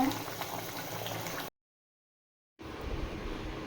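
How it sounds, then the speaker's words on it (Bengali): Soybean kofta curry simmering in a pan, a steady bubbling hiss that cuts out briefly to silence and then returns at a similar level. "দু তিন মিনিট আমি ভালোভাবে ফুটিয়ে নিয়েছি"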